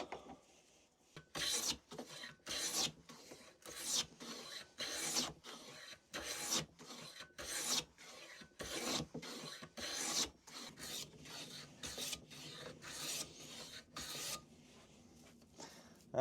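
Rasping strokes of a cheap £10 hand plane shaving a piece of hardwood, about fifteen loud, evenly spaced passes in a steady back-and-forth rhythm, close up with no talk.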